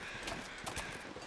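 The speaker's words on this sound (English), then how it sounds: "we hear the crows, so that's a good sign" Crows caw a few times in The Long Dark video game, faint and distant, over a steady hiss of wind-like background noise.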